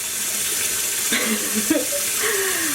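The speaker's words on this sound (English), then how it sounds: "I am going to continue washing this. The water's already clear, so now I'm just rinsing out the soap" Tap water runs steadily as dyed yarn is rinsed of soap in a sink, a continuous close hiss and splash with brief clunks and water-shifting gurgles partway through.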